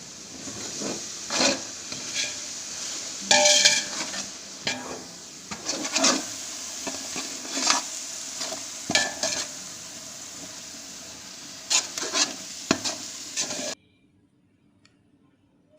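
Biryani masala and yogurt stirred in a pot, a spoon scraping and clattering in uneven strokes over a soft sizzle, close and fairly loud, then dropping to near silence at the end.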